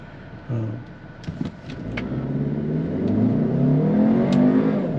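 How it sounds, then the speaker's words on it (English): An Audi's high-revving four-cylinder engine accelerates hard from inside the cabin, its pitch climbing steadily through the revs as a loud, continuous rising drone with a brief sharper burst near the start. "Nothing like a high revving 4-cylinder engine."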